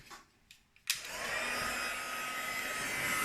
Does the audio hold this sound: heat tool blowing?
yes